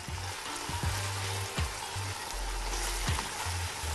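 Onions fry in a pan for a lentil dish, a steady close sizzle with fine crackling pops running throughout, no talk.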